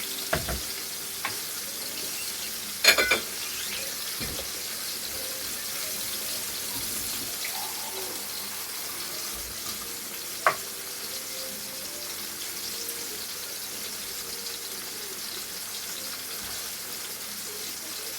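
Onion fries in a pan while a meal of Ukrainian Lenten Holy Supper dishes is prepared, giving a steady hissing sizzle. Occasional faint clinks and a couple of sharper knocks sound from the kitchen.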